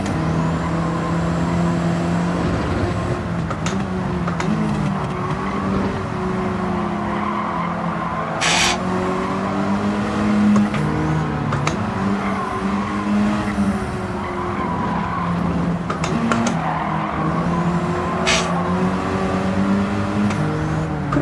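A road car driven hard in the Gran Turismo 7 racing game gives a continuous engine drone with shifting revs and bursts of tire squeal and skidding through corners, steady and loud throughout.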